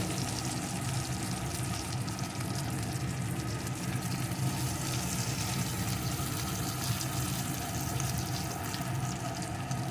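Fried pointed gourd and potato sauté in a spice paste, producing a soft, steady sizzling hiss with a faint low rumble and no speech.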